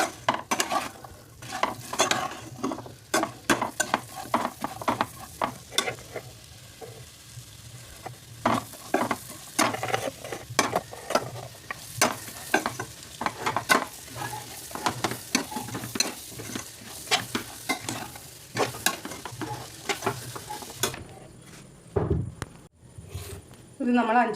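Five blended tomatoes sizzle in hot oil with fried onions for prawn biryani, under repeated scraping stirring strokes from a spoon in the pan.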